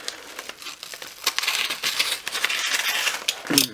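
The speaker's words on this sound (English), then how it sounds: "So here is my craft knife, and where should we cut from?" Craft knife slicing through the plastic packaging wrapped around a Bionicle magazine, a close, busy run of crinkling and crackling plastic with brief scraping strokes, ending in a sharper tear near the end.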